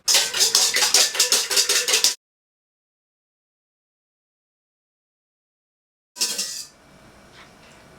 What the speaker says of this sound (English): The first part of making meringues is whisking the egg whites until they're stiff.